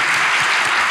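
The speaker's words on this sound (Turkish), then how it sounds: "Kocaman alkış hocamıza." A studio audience on a Turkish talk show bursts into dense, loud, sustained applause, a brief continuous wash of many hands clapping at once.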